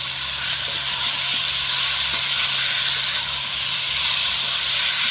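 Fried potatoes sizzle in a pan of frying spice masala, a steady loud hiss with faint stirring clatter throughout, no talking.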